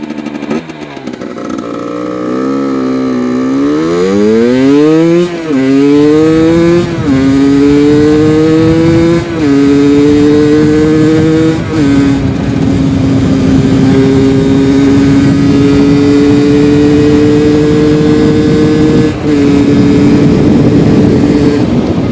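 Modified motorcycle or scooter exhaust revving loudly and up close, the engine climbing through several stepped rises in pitch and then holding a steady, sharp, crackling drone, with no talking.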